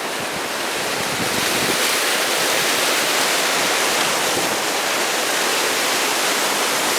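Main waterfall near McLeodganj roaring from below, a dense, steady broadband rush of falling water heard from above, constant and loud with no break.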